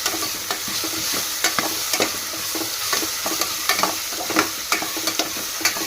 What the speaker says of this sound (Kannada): ಉಳ್ಳಾಗಡ್ಡಿ ಸ್ವಲ್ಪ ಬ್ರೌನ್ ಕಲರಿಗೆ ಬಂದಿರಿ ಸ್ವಲ್ಪ ಅಲ್ಲ ಬೆಳ್ಳಿ ಪೇಸ್ಟ್ ಹಾಕೊಳ್ಳೋಣ ಅಲ್ಲ ಬೆಳ್ಳಿ ಪೇಸ್ಟ್ ಹಾಕಿ ಮಿಕ್ಸ್ ಮಾಡ್ಕೊಳ್ಳೋಣ